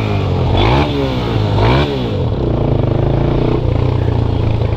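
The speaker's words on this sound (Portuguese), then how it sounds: "É muito carro, é muita moto, meu amigo." Motorcycles and cars passing in São Paulo street traffic, engines revving and rising in pitch as they go by close, with a steady low traffic rumble continuing underneath.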